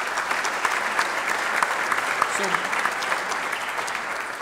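Steady applause from a crowd at a small business recognition awards event, sustained throughout at moderate loudness, with a brief spoken word early on.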